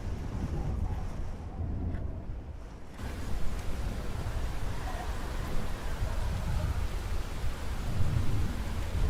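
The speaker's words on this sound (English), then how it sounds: "I have never seen a storm this bad before." Video-game thunderstorm: heavy rain hisses steadily while deep thunder rumbles and swells, growing louder after a brief quieter stretch near the start.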